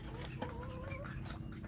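Free-range village hens give faint clucks and a short drawn call over a steady background hiss, quiet and some distance off.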